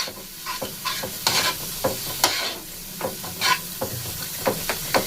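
Vegetables fry in a pan and are stirred now and then, giving a steady close sizzle broken by repeated scraping, clattering stirs.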